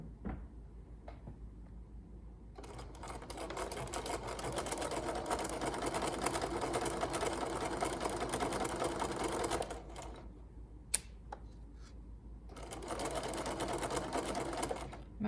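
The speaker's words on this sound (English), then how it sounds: "And now I'm going to do a regular stitch, back stitching at both ends" Sewing machine running steady stitches along a fabric fold, with back stitching at both ends; a continuous close mechanical whir runs for long stretches, pauses briefly near the end with a sharp click, then resumes.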